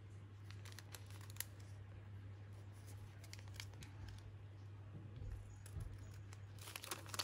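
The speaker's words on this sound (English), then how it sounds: "Now I'm just going to grab my scissors and just trim that" Scissors trimming a paper pocket insert for a journal, with soft crinkling and snipping rustles close by over a steady low hum.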